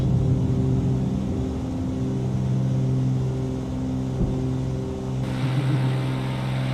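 A propeller airplane engine roars at takeoff power through a long takeoff roll that uses nearly the whole runway, a loud, steady, close droning hum with no pauses.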